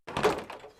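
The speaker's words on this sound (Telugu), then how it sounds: "open the door" In a Telugu CID crime drama scene, a door opens nearby with a single short, soft thunk and then quiet.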